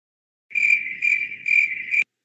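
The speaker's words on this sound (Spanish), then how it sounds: "Ah, señor Grillo." A single cricket chirps up close in four steady, evenly spaced trills with brief gaps between them, loud and isolated against an otherwise silent background.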